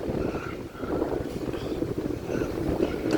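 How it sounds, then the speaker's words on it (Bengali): Heavy rain and strong wind outdoors at midnight make a steady roar, with gusts buffeting the microphone and a constant wash of falling rain. "এদিকে প্রচুর বৃষ্টি চলছে"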